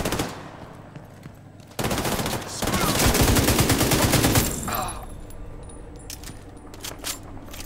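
Heavy mounted machine gun in The Division 2 video game opening up in a loud, rapid sustained burst for a few seconds, with sharp mechanical clatter around it before and after the firing.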